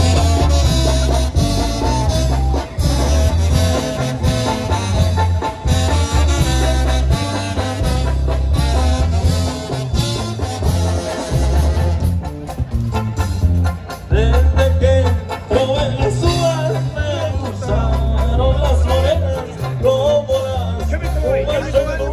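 Colombian-style music plays at a jaripeo-baile rodeo event in La Calzada, Ciudad del Maíz, San Luis Potosí, with steady bass, rhythmic beats and melodic lines running continuously and loud throughout, without pause.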